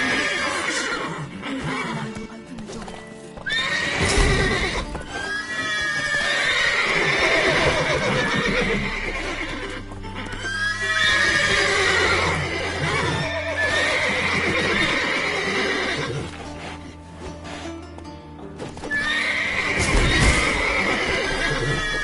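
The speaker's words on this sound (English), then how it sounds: "Gotta calm all the horses before they wake the guards." Horses in The Witcher 3 whinny and neigh repeatedly over the clatter of shifting hooves inside a stable, loud and close, with several calls overlapping across a long stretch of game audio.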